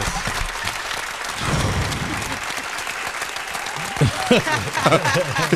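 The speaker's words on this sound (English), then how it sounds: "let's clap that up for a second, man" People in a hip-hop interview studio break into applause, steady clapping for several seconds before voices start talking over the tail end.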